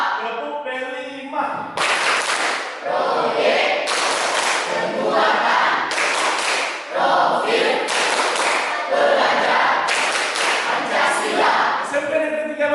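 A junior high school class claps in quick rhythmic patterns while voices chant together between the bursts of clapping.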